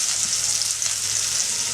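Onion, garlic, spices and tomatoes fry in oil in a wok over a clay stove, a loud, steady, close sizzle that runs without pause and has no voices over it.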